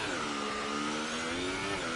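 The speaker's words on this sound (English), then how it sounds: "Here the revs drop a little bit low on the Alfa Romeo there." Alfa Romeo Formula 1 car engine in the racing game F1 2018 at the Baku circuit, a steady high-pitched whine holding near-constant revs, loud and continuous with no talk.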